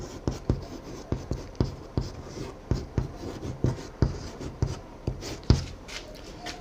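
Marker or chalk writing out a Class 12 maths determinant solution on a board: steady rhythmic strokes and taps, about two per second, close and clear with no talking.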